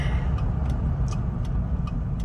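A large 1979 Lincoln Continental Town Car, a barn find, heard from inside while easing through a gentle turn: a steady low engine and road rumble with faint light ticks and rattles over it.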